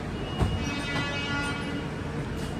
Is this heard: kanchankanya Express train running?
yes